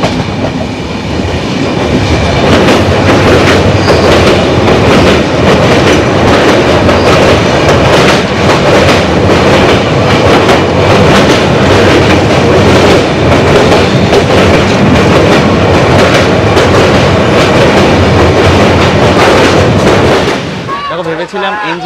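A passenger train crosses the Torsa river bridge with a loud, dense, continuous rattle and rhythmic clatter of wheels on the span, then the roar cuts off abruptly near the end.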